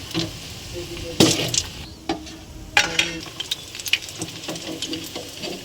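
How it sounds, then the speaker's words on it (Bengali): Egg and pea lentil pakoras fry in hot oil with a soft, continuous sizzle, broken by occasional louder clatters and scrapes as pieces are turned and lifted out. "এইভাবে একে একে ভেজে নেব।"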